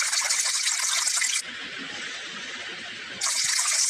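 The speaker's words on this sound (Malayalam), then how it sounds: "അപ്പം നമുക്ക് അതിൽ വാട്ടർ ഒഴിക്കണം." Water runs into a cleaning bucket as a loud, steady hiss that drops to a softer trickle for a couple of seconds before surging again.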